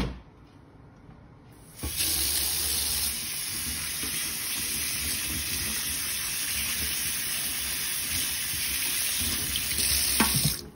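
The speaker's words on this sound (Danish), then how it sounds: "Og så skal de bare have noget koldt vand" Cold tap water runs steadily into a kitchen sink for rinsing salad, starting abruptly after a quiet moment and continuing as a loud, even gush to the end.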